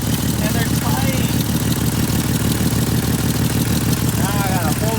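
A Jeep 4.0 engine idles with a leaking exhaust manifold gasket, giving a steady, close, continuous low rumble with faint ticking throughout, with no one talking.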